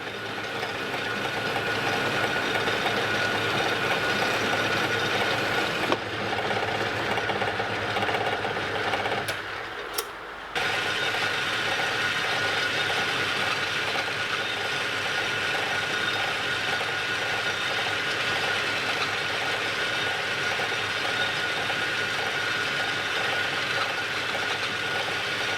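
A metal-turning machine cuts a chip, giving a steady, loud mechanical whir and rattle that runs continuously, with one brief dip and a break near the middle.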